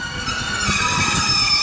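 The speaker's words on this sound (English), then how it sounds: "That's that train, guys" Train 153333 passes at Exeter St David's station with a steady rumble of wheels and a tonal hum from its engine, moderately loud and continuous, with no voices.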